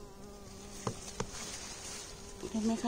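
Bee buzzing steadily around fragrant peony flowers that are in full bloom and starting to wilt, close by, with a few soft knocks and someone speaking briefly near the end.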